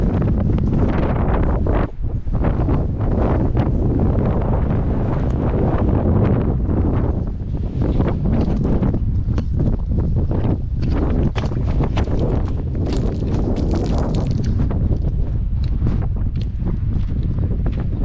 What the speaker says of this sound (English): Cool, a bit windy.